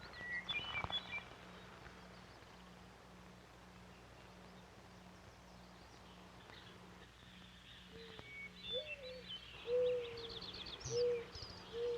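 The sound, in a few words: blue grouse courting call near timberline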